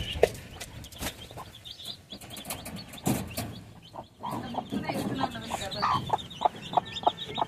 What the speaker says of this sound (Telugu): చూసారు కదా ఇప్పుడు ఇందులో ఉన్నాయా ఇక చిక్స్ మన రసంగి.